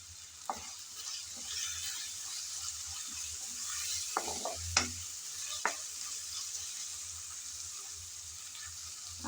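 Ginger, garlic and onion frying in a pan with steady sizzling, broken by several sharp scrapes and knocks as the mixture is stirred, close and fairly quiet throughout.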